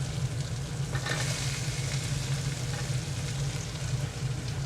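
Finely chopped potatoes frying in a hot masala base for Lahori aloo chana, giving a loud, continuous close-up sizzle with occasional stirring scrapes and no talking.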